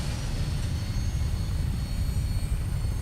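Vertibird aircraft lifting off in the Fallout 4 video game, a steady, loud engine and rotor roar with a high whine above, continuous and close with no speech.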